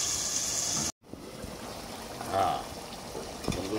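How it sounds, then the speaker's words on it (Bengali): Broth poured into a pan of cooking baim fish curry makes a faint, soft trickle and splash, low in level with a short silent gap early on. "এখন হালকা করে একটু ঝোল দিচ্ছি।"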